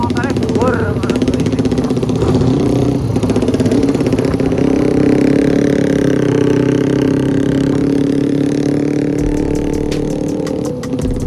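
A Honda Supra motorcycle, raised up to look like a trail bike, drones steadily while being ridden at night, its engine note climbing and holding under wind noise as people talk over it.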